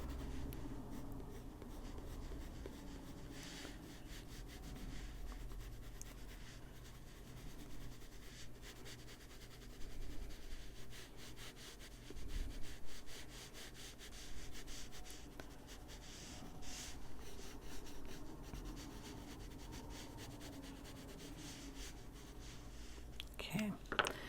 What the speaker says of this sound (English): I'm just going to lightly, the side of the pencil,